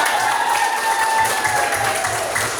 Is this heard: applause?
yes